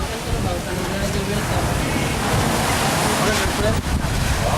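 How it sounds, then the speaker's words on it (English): Big ocean waves break on a beach, a broad continuous roar of surf mixed with wind buffeting the microphone, while people talk nearby. "The biggest waves I've seen here."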